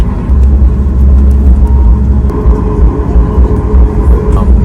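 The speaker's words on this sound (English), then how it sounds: "Now we are about to take off. Only 1 hour flight." A passenger plane rolls for takeoff on a one-hour flight out of Cuba, loud heavy cabin rumble and roar droning steadily throughout, heard from inside the aircraft.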